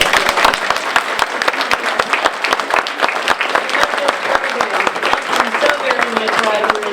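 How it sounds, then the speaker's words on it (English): An audience closing a local history talk on cigar making gives a round of applause, many distinct claps layered into a lively, steady patter, with some voices murmuring beneath. "One more round of applause."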